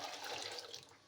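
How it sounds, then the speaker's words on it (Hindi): A jug of water poured into a cooking pot while making kadhi pakora, a faint continuous splashing pour that thins out toward the end, without any voices. "अब हम 1 जग पानी इसमें डालेंगे।"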